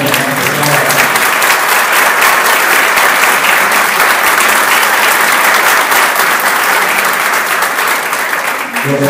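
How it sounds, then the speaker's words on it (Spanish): A loud, sustained round of applause from the audience at a political event where the MIRA movement backs a gubernatorial candidate. The packed clapping stays close and continuous, easing slightly at the very end. "Yo sí quisiera que los diaristas le diéramos un aplauso."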